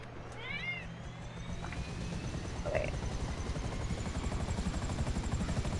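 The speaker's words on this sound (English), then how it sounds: "I'm in the chopper." Helicopter flying in a multiplayer video game, a steady loud rotor chop and engine drone filling the whole stretch, with a few faint in-game chirps and tones over it.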